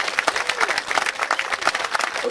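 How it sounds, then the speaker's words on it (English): Crowd applause from a festival audience cheering Roman legion and auxilia reenactors at an outdoor history event, steady dense clapping throughout at a moderate distance. "give a round of applause for our Roman legions and our Roman auxilia"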